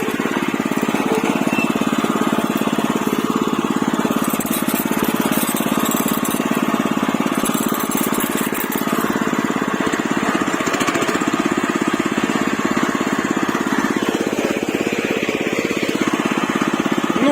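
A walk-behind tractor's engine runs steadily in third gear as the machine drives slowly forward, a continuous loud mechanical drone with no pauses.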